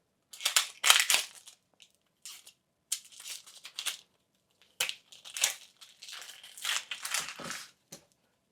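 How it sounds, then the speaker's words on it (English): Dry, papery onion skin peeled away by hand in a kitchen, producing close crinkling and crackling bursts separated by short quiet gaps. "peel that outer layer"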